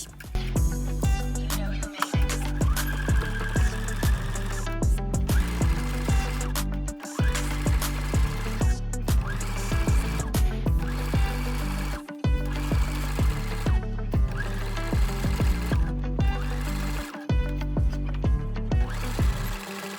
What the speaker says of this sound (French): on va venir faire une couture sur tout le bas à 1 cm